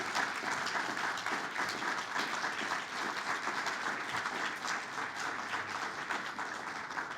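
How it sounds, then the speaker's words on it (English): An audience at an alumni awards ceremony applauds award winners with a steady, even wash of clapping that holds at moderate distance from start to finish, with no voices over it. "let's give another round of applause for all our award winners today"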